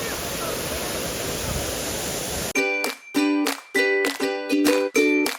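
Soormanne waterfall near Kalasa, Chikkamagaluru, gives a steady broadband roar of falling water for a few seconds before it cuts off abruptly and rhythmic tonal bursts take over.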